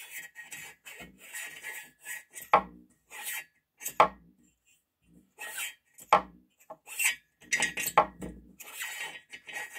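Metal piston sliding back and forth inside a freshly bored ZID Pilot 50 motorcycle cylinder, giving intermittent close scraping and rubbing strokes separated by short silences.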